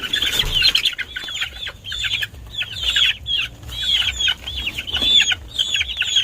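Young chicks peep in rapid high chirping bursts, close and lively, with faint rustling and scratching underneath.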